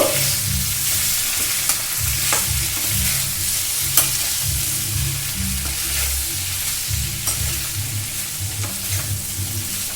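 Grated ginger being stirred into a frying potato curry for kochuri, a steady close sizzle with repeated scraping strokes of the spoon against the pan and a low rumbling undertone throughout.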